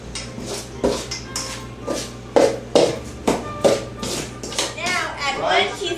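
Sugar and vanilla stirred into cupcake batter in a bowl, a spoon clinking and scraping in irregular taps against the sides, with voices talking throughout.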